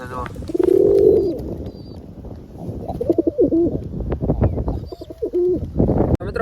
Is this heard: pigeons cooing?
yes